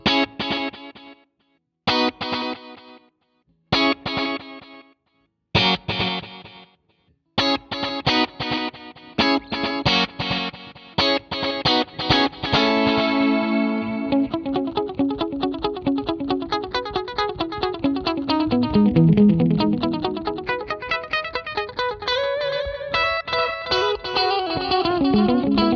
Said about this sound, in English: We've got the 12-bit mode here, which is my favorite on the Dig